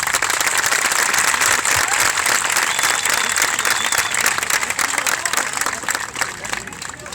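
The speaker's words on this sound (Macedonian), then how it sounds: "Овој аплауз нека биде и посилен за да може да не слушате Чичко Добре." Crowd applause at a horse race event in Vasilevo, dense and continuous clapping across the whole stretch, loud and close with no break.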